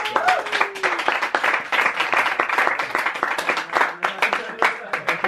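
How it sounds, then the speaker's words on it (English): A small house concert audience in London claps for a musician, with distinct individual handclaps close by and voices talking and cheering over the applause. "massive enthusiastic round of applause for this beautiful man"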